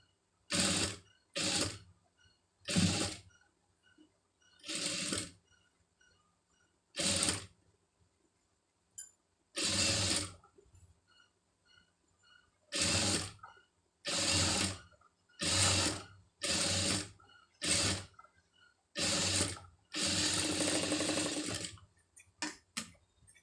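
A sewing machine stitches lace in short, repeated bursts of rapid mechanical whirring, separated by brief pauses, close and fairly quiet with no talking.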